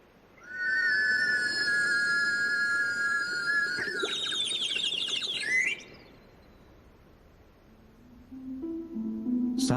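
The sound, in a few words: warbling water whistle imitating bird song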